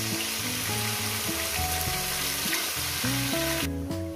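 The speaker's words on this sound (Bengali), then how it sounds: "মশলার সঙ্গে এটা মাছের মাথাটাকে একটু কষিয়ে নেব" Katla fish head frying with a spice paste for a radish-greens chorchori, a steady bright sizzle running beneath loud stepped background music throughout.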